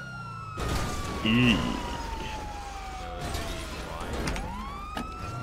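A police car siren wails in GTA V, its long sweeping tone gliding down and rising again over game engine noise, with people talking over it.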